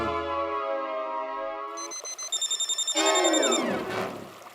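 A telephone rings with a steady electronic tone that turns into a fast pulsing ring, followed by a brief burst of clattering noise.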